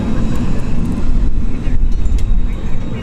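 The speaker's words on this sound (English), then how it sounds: "They're just revving their engine." A drag racing car revs its engine at a street drag strip at Bradenton Motorsports Park, a loud, rough, fluctuating roar heard from nearby for about three seconds.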